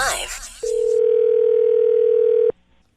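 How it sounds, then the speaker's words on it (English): A steady telephone dial tone sounds loud and unbroken for about two seconds before cutting off sharply, following a brief burst of radio voice and music at the start. "It's another Jubal Phone Tap."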